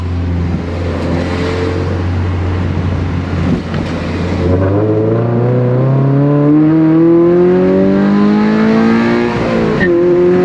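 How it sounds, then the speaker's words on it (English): A 2022 Subaru BRZ accelerates hard on fresh pavement at night, its engine note climbing steadily and loudly through the revs, heard from inside the car, ending in a brief tire chirp. "A little tire screech there in the fresh pavement."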